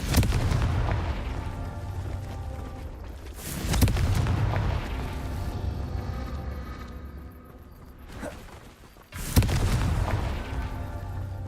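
Deep booming blasts of the Confringo explosion spell in Hogwarts Legacy, with rumbling impacts near the start, around four seconds and again near nine seconds, each followed by a loud, sustained low roar.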